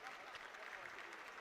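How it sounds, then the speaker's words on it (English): Stadium crowd applauding both robot-competition teams at a national robotics contest, a steady, dense wash of clapping throughout with speech faintly mixed in. "a round of applause for both the teams from all around the stadium"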